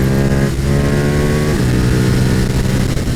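A KTM Super Duke motorcycle engine roars at high revs under hard acceleration with the front wheel lifting, a loud close drone with a brief gear-change dip.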